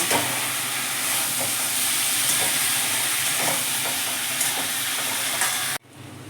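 Taro stolons with prawns sizzle and fry in a pan, a dense, steady hiss with faint crackles running close and loud, then dropping abruptly near the end.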